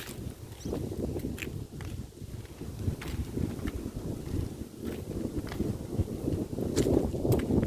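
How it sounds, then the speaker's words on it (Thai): Strong wind gusting by a pond at Sa Phang Thong, rumbling and buffeting against the microphone in uneven surges, with faint rustling and scattered knocks underneath. "ลมแรงมากเลย"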